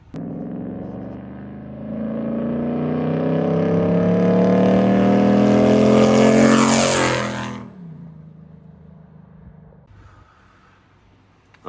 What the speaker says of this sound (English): I'll throw in some exhaust clips here pretty soon.